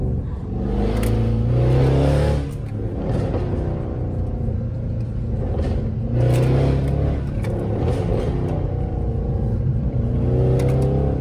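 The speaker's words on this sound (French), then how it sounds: "Ah ouais, le retour de flamme là" Mercedes C63 AMG W204 engine revving hard in repeated surges, each rise ending in crackling backfire pops, loud and close with no talk.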